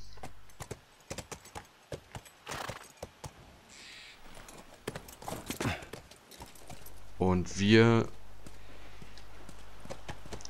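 Video game horse hooves clip-clop in a steady walking rhythm in The Last of Us while someone talks over them, and the horse snorts or whinnies briefly near the end.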